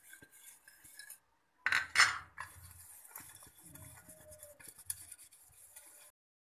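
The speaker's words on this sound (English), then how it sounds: "And now I am greasing all the idli plates with oil" Metal idli plates get greased with oil, with clinking and scraping of steel plates handled close by, two louder clanks early on, then steady rubbing and rattling before going quiet.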